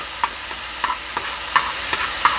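Garlic cooking in a pan for Chinese garlic lettuce, with a spoon or spatula stirring in six distinct close scrapes and clicks over a faint, steady sizzle, no talking.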